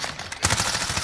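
A short, loud burst of automatic gunfire in Call of Duty Modern Warfare, fired without recoil control, starting abruptly after a quieter moment and rattling on close up.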